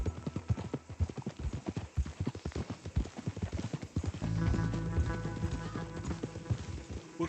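Horse hooves clip-clop at a steady trotting rhythm in Red Dead Redemption 2, loud and close, the pace thickening toward the end as more movement and rattling join in.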